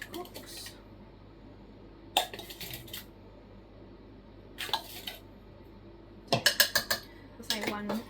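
A spoon stirs gravy powder into slow-cooked beef in a pot, giving scattered metallic clinks and scrapes, some in quick clusters, over a quiet background with faint talk.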